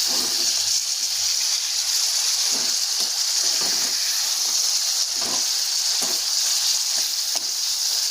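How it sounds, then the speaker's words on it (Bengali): Spices and vegetables sautéed in a pan with a little water, a loud, constant hissing sizzle with bursts of steam and stirring scrapes, close and uninterrupted. "কষে নিচ্ছি কষাটা একটু হলে আমি জল দিয়ে দেব"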